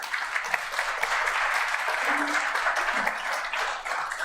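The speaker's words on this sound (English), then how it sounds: "I'm going to give you a round of applause," Round of applause at a city council meeting, a moderate steady wash of many hands clapping in a room, with faint voices murmuring underneath.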